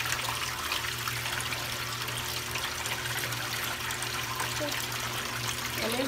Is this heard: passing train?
no